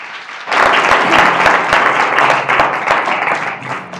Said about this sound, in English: Let's give a round of applause for our two guests today.